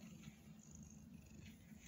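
A pet cat purring softly close by, a continuous low rumbling drone that stays faint and even throughout.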